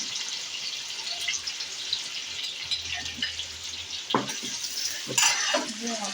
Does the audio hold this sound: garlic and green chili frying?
yes